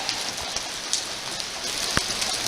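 Steady rain falls and patters on surfaces outdoors during a dog walk, a continuous close hiss with a few sharper drop hits and no talk.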